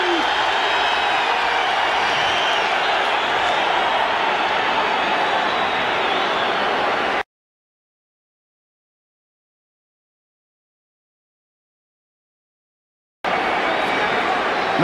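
Roaring stadium crowd at a 1982 Vikings vs. Lions NFL game, a steady loud wash of noise that cuts out to silence midway and then returns.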